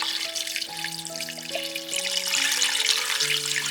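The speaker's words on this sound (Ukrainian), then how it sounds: "Заливаємо курицю водою." Tap water runs into a pot of chicken pieces, a steady close stream with ringing, shifting tones as the vessel fills.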